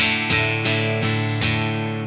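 A clean, bright 1980s rack-style electric guitar tone playing chords, with a few sharp strums about every third of a second, ringing on steadily with no voices.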